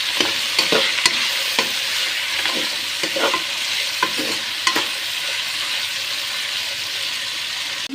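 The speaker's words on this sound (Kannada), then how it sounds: "ಹಾಕ್ಬಿಟ್ಟು ಮಿಕ್ಸ್ ಮಾಡಿ." Vegetable pulao being stirred in a pan after salt and turmeric go in, a steady sizzle of frying with repeated scraping taps of the spoon against the pan, close and loud, no talking.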